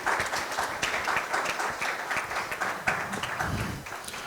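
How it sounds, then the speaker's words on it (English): Audience clapping for panelists at a national stakeholders' dialogue event, a dense, steady round of applause from a crowd in a hall, moderately loud and continuous. "Please, a rousing round of applause for our panelists."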